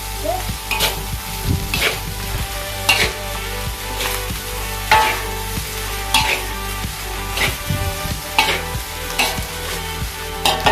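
Fried rice with egg and thick soy sauce stirred in a pan: rhythmic scraping strokes of a spatula roughly every second over a constant sizzle, close and clear, with no talk.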